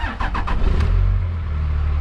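A 2004 Dodge 3500 dually with a Cummins diesel engine cranks with a few quick starter chugs, then catches and settles into a loud, steady low idle close by.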